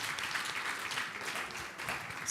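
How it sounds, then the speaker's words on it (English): Audience applause at a national schools final event in Kenya-style hall setting, a dense, steady wash of many hands clapping throughout, fairly loud and continuous with no voices. "Bigger round of applause,"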